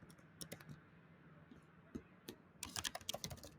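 Keys clack on a computer keyboard while code is typed in VS Code, with scattered clicks first and then a denser, quicker run of keystrokes near the end, fairly faint.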